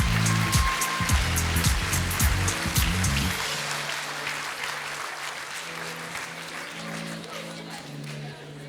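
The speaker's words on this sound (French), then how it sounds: "on peut les applaudir une dernière fois" Applause from the audience at a French master's graduation ceremony, loud dense clapping at first that thins and fades to a softer, sparser patter by the end, with no talking.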